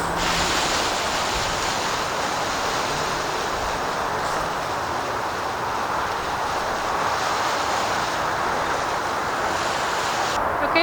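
Water sprays steadily onto dry leaves in a sheet-mulched garden bed, giving a constant, close, rushing hiss that barely changes throughout, with no talking.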